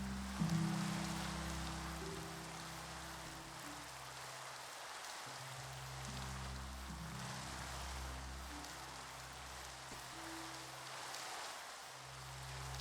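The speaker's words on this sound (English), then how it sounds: "Oh, and it's raining, of course." Steady rain falls in a blocky village-building video game, a soft continuous hiss of drops over low droning game music, with no talking.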